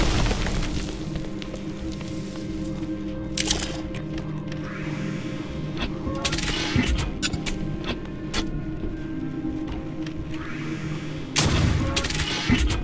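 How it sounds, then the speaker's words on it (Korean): Explosions in the action adventure game Hob: several loud, broadband blasts burst out at intervals over a steady bed of in-game ambience and tones. "어, 폭발."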